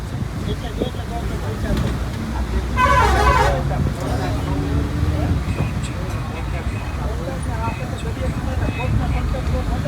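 A bus rolling through Kutch in the rain, with steady road and engine rumble throughout and a loud, brief horn honk near the start. Voices talk over the traffic noise.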